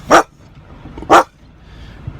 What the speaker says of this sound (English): Let's say what's up to the doggy.